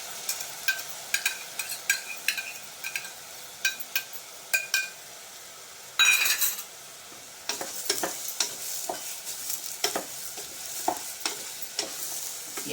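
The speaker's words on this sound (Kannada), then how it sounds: "ಎರಡು ನಿಮಿಷ ಈ ಅಕ್ಕಿನ ಹೆಸರುಬೇಳೆನ ಸ್ವಲ್ಪ ಬಾಡಿಸ್ಬಿಡ್ತೀನಿ." Rice and moong dal roasting in a pan, stirred with a utensil, giving dry rustling scrapes and light clinks against the metal in irregular strokes, close and alone without talk.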